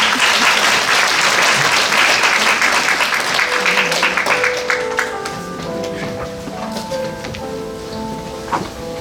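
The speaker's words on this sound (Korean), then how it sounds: "큰 박수 부탁드립니다." Loud, dense applause from an audience at a Korean education community talk event, a steady wash of clapping that gradually thins and fades while a soft musical intro of piano-like tones emerges underneath.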